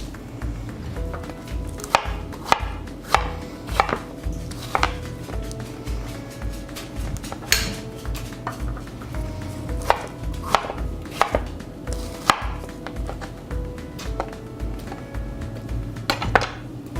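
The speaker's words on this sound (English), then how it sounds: "garnish with some fresh berries that I'm gonna chop up" Fresh blueberries and raspberries are chopped with a knife on a cutting board, a steady series of crisp, close knocks at an uneven rhythm, with no talking.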